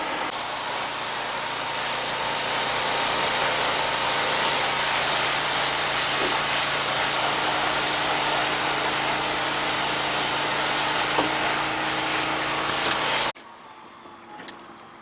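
An electric 12-volt pump on a boat runs with a steady, loud whirring hum for about thirteen seconds, then cuts off abruptly, leaving quiet with a faint click.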